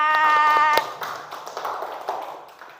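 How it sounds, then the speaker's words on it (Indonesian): A fourth-grade class applauds briefly in a classroom, a short ragged burst of scattered hand claps that follows a sustained tonal sound and tapers off within a couple of seconds. "Tepuk tangan buat kelas 4."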